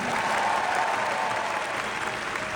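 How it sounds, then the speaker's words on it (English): Sustained audience applause fills a large venue at a live entertainment showcase, a dense, even wash of clapping from a big crowd that holds steady throughout. "Let's have a big round of applause for Jimmy Goodwin and TV1."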